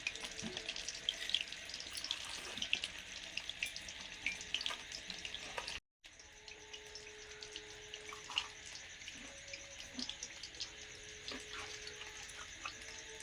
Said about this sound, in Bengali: এই যে হাতটা ধুয়ে নি